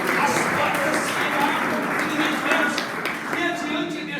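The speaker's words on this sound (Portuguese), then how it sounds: "Aplauda com alegria ao Senhor" A church congregation applauds together, a steady dense wash of clapping that holds at an even level throughout, with voices mixed in underneath.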